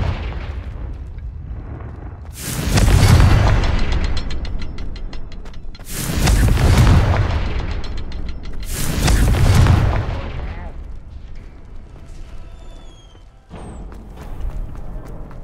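Confringo explosion spells blast in Hogwarts Legacy, three loud booming bursts a few seconds apart, each with a deep rumble and crackling tail, followed by a smaller impact near the end.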